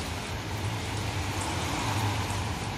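Rain falling in Kuwait, a dense, even hiss of drops that holds steady throughout with no voices.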